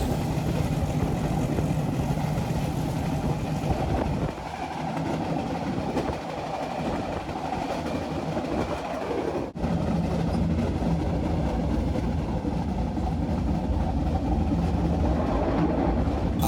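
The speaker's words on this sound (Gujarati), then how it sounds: "આપણી ટ્રેન સમયસર છ ને ત્રીસ કલાકે ઉપડી ગઈ છે" A meter gauge passenger train runs from Junagadh to Sasan Gir in the rain, heard from inside the coach as a steady, loud rumble and rattle that carries on without a break and with no talk.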